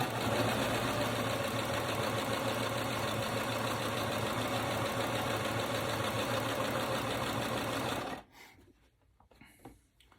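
A sewing machine stitching a pillow case, running with a steady, fast mechanical whir for about eight seconds before stopping, leaving faint handling noises.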